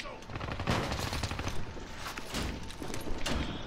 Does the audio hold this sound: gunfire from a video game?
yes